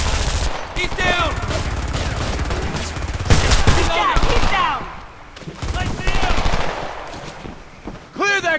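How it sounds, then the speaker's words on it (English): Heavy automatic gunfire in a firefight in the video game Homefront, loud rapid bursts and sharp shots filling the scene, with shouted voices over the shooting. "Taking fire!"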